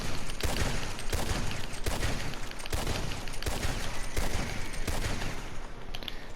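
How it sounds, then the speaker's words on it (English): Rapid repeater rifle gunfire in Red Dead Redemption 2, about eight loud sharp shots spaced roughly evenly under a second apart, each with a booming echoing tail, no talking. "repeaters are good for how fast they can shoot. You can see right here the fire rate."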